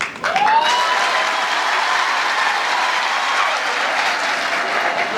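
An audience at a Rwandan ceremony honouring the army claps in dense, continuous applause that starts abruptly and holds steady and loud throughout.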